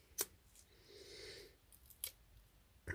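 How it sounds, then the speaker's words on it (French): Scissors snip paper for handmade stamped cards, a few sharp close cuts spaced apart with a softer sliding rasp between them, quiet and with no voices. "ma paire de ciseaux fait plutôt de la bouillie qu'autre chose"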